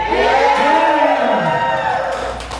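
A packed comedy club crowd of around a thousand at a comedy festival roars, cheers and whoops continuously, loud and close, the dense wall of voices slowly fading toward the end.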